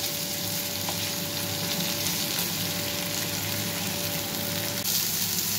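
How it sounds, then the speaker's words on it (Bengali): Chicken pieces for butter garlic chicken fry in a pan, a continuous close sizzle with faint stirring underneath and a steady background hum. "এপিট ওপিট করে লাল করে আমি ভেজে নেব বন্ধুরা।"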